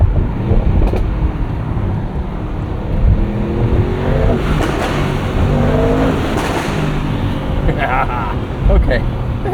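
A 2024 Mercedes-AMG GT 63 coupe, a 577 hp V8 muscle coupe, revving hard under bridges in the evening, a loud sustained engine roar rising and falling with reverberant echo, while people talk over it.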